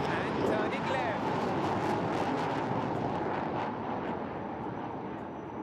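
A Sukhoi 30 MKI fighter jet takes off at the Aero India 2021 airshow, a loud, broad, continuous jet roar that stays steady and close throughout while a commentator speaks over it.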